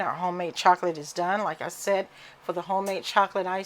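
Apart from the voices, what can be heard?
No everyday noises stand out.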